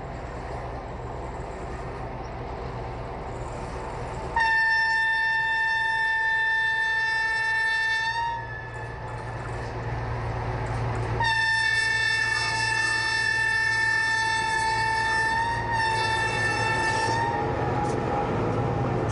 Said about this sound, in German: In langsamer Fahrt ist der Zug auf der Museumsbahn unterwegs.